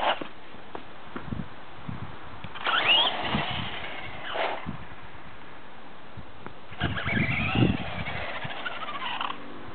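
A rebuilt vintage Traxxas Rustler RC car with a brushless motor runs in two bursts, each a rising and falling electric whine with tire and gravel noise between quieter pauses.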